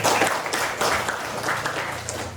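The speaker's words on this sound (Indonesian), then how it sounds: "Beri aplaus untuk Remi dulu" A classroom of students gives a short burst of applause for a classmate, dense clapping throughout at close range.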